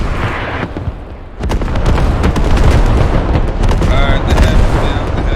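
Artillery rounds exploding in the military shooter Squad, a heavy booming blast that builds into a sustained loud rumble with crackling debris, close and dense.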